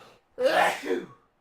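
A single sharp sneeze, close and fairly loud, with a brief breath before it.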